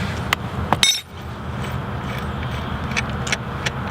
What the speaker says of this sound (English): To adjust the ekoslide, the first step is to remove the top nut.